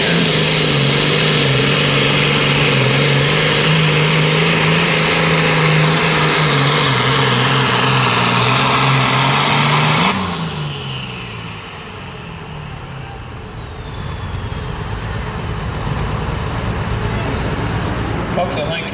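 A pulling tractor from Homestead, Kentucky roars at a loud, steady pitch on a dirt track at a night pull in Hopkinsville, then the engine note drops sharply and fades, leaving rumbling crowd and traffic-like background noise.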